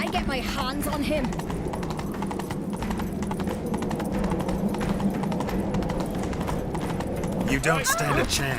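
Horse galloping in The Witcher 3: Wild Hunt during a chase, rapid clip-clop hoofbeats running steadily under game dialogue and music, with a brief whinny-like cry near the end.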